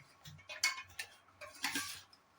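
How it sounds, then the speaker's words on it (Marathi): A spoon stirs fried gulab jamun in sugar syrup, making a few soft, irregular clinks and scrapes against the pot, quiet and close, with no talk. "आता आपण हे तळलेले गुलाबजामुन साखरेच्या पाकामध्ये मुरण्यासाठी टाकणार आहोत एकदा आपण ते गुलाबजामून हलवू व्यवस्थित"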